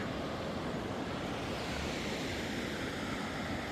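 Deep Creek on the Pacific Crest Trail runs high and raging, a steady broadband roar of rushing water filling the whole clip with no breaks, loud and close.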